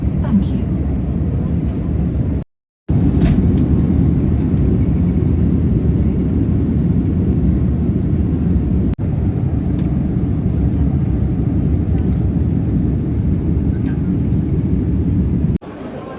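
Inside an airplane landing in Ethiopia, a loud, low cabin rumble of engines and wheels roars continuously, briefly cut once, with voices murmuring underneath.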